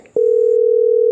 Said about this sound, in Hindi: इसलिए मैं फटाफट अपना फोन निकालता हूँ और सीधा इरफान भाई ड्राइवर को फोन लगा देता हूँ